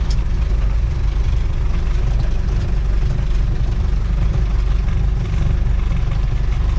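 A Toyota Bandeirante diesel pickup engine runs at idle, a loud, steady low rumble with a rough, clattering diesel knock, recorded close up without pause.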